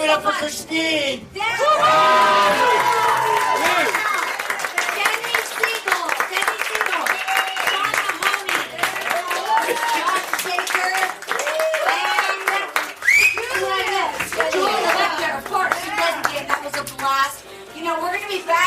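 A theater crowd at a live storytelling game show claps and whoops for a performer named Christine, steady applause with scattered shouts running for most of the stretch while voices talk over it.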